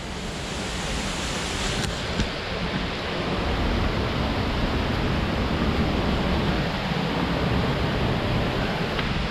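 Jatiapat waterfall in Keonjhar, Odisha, pours with a steady, dense roar of falling water that stays unbroken and fairly loud throughout, with no voices.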